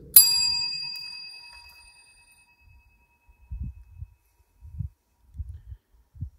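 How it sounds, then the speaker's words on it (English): A small bell is tapped once, ringing out in a clear, bright ding that slowly decays, inside the abandoned Donner railroad tunnels in California; soft low thumps and quiet shuffling sounds follow in the near silence. "can you come tap this bell, please? Just like this."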